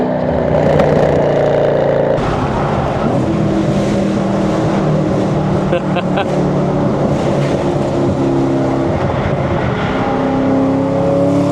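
A 650-horsepower Chevrolet Camaro ZL1 drives on the road with a loud, constant engine drone and rumble that swells slightly as it runs, steady for the whole stretch with no pauses.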